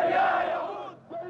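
Angry crowd of protesters shouting together in the streets of Khartoum after Friday prayers, a loud dense roar of many voices that eases and then swells again with raised cries.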